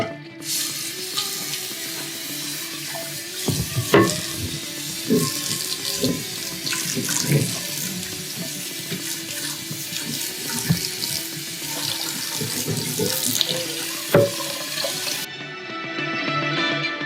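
Tap water runs steadily into a sink to rinse freshly cooked, drained rice for Armenian-Persian tahdig, a continuous splashing gush with brief clatters of a pot or utensil, close and alone until it stops near the end.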